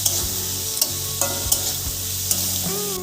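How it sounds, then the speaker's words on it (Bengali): Onions fry in a hot pan while they are stirred for a chicken mete kosha, a continuous close sizzle broken by occasional scrapes and clinks of the spoon. "পেঁয়াজটা একটু কিছুক্ষণ ধরে ভালো করে ভাজা করে নেব।"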